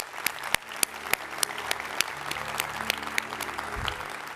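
An audience at a leadership conference awards event applauds the winners; steady, fairly distant clapping with a few sharper individual claps standing out above the crowd.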